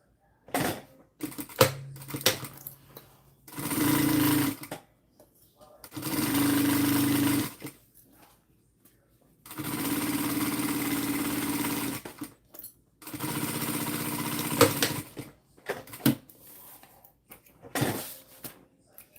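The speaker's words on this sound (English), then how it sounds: "I like to stitch it with the vinyl side up" Sewing machine stitching through vinyl material, running in several sustained bursts of a few seconds each separated by pauses, fairly close and steady.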